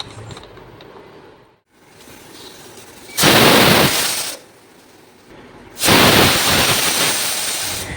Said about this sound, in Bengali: এখন ডালটাকে একটু সিটি দিয়ে নেব চার থেকে পাঁচটা সিটি দিয়ে নিতে হবে